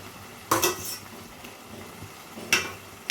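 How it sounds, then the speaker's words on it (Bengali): Fried potatoes added to spice masala in a pan and stirred, with two sharp metallic clanks and scrapes of a spatula against the pan over a faint sizzle, close by. "এবার দিয়ে দেবো ভেজে রাখা আলুগুলো"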